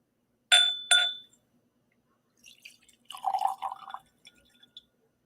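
Scotch whisky poured from a bottle into a glass: two sharp glassy clinks open, then after a pause a soft trickle and splash of liquid with a few light drips, close and fairly quiet.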